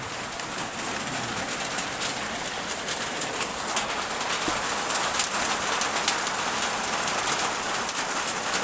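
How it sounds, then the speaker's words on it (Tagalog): Dense, steady hiss of heavy rain pouring down, constant and loud, with faint bird calls mixed in. "Lakas ang ulan mga kasidol"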